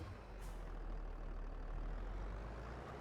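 Steady low rumble of a tractor engine idling in Farming Simulator 22, a continuous near drone with a brief hiss near the start and no talking.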